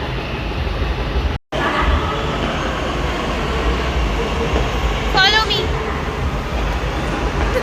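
A metro train in Pune rumbles steadily throughout, with a brief squeal of wheels partway through and a short dropout near the start.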